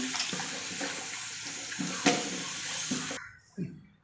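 Running water pours steadily from a tap with soft splashes and a few handling knocks as a surmai fish is washed, ending abruptly with one last splash.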